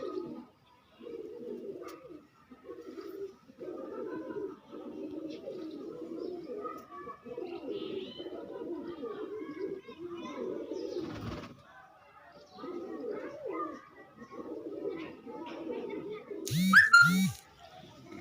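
Soft, repeated low cooing from pigeons runs through most of the stretch, with brief pauses and a short sharper burst near the end.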